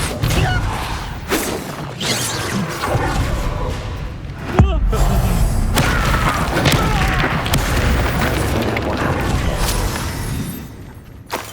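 The Depulso spell in Hogwarts Legacy goes off amid combat, with loud booming blasts, whooshes and crashing impacts in a continuous barrage, one sharp hit standing out midway.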